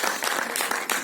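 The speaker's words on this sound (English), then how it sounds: "Big round of applause, ladies and gentlemen" Brief applause from an audience at a film press meet, a second of dense clapping heard close and fairly loud.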